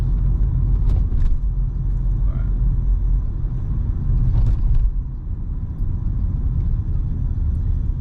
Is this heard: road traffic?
yes